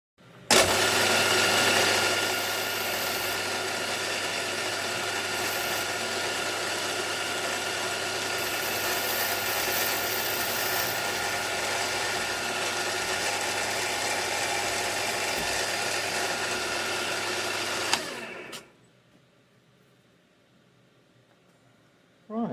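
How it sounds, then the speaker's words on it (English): A power drill with a 4mm bit runs continuously for about eighteen seconds with a steady high whine and buzzing motor, then stops abruptly, leaving near silence. "I'll just change to the 4mm drill"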